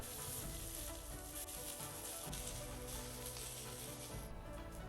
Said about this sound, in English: We need to cook these vegetables in high heat without adding any water, because we need the vegetables to be crispy.